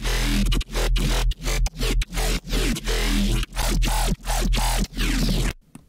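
A modified growl bass synth from an electronic music track chops through about nine loud, rhythmic, snarling stabs with short gaps between them, ending with a brief tail.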